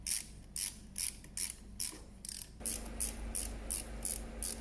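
A spark plug is loosened from a car engine with a ratchet, a rapid run of close, crisp clicking strokes in steady rhythm, briefly paused and then resumed.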